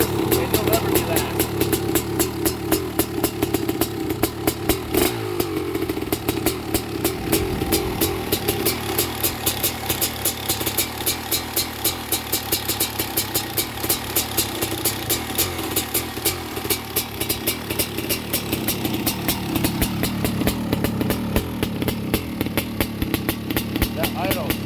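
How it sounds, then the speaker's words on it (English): A bored-out Honda CR500R two-stroke dirt bike engine at 512cc big bore with a new crank and piston idles close by, a loud, rapid, uneven popping throb that runs continuously while someone talks over it. "This is a 512cc big bore Honda CR500 engine bored out."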